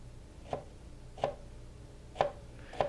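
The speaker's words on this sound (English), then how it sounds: "Now again, very narrow slices" A knife cuts through a jalapeño into very narrow slices, giving four crisp, evenly spaced chops on a cutting board, close and fairly quiet with no talking.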